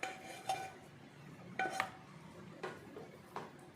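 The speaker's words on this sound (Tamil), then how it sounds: "நம்ம நெய் தடவி வச்சுருக்க பாத்திரத்தில் இதை மாற்றிக்கலாம்" Coconut burfi mixture is scraped from a pan into a ghee-greased vessel, giving a handful of quiet metallic clinks and scrapes of a utensil against the pot at irregular intervals.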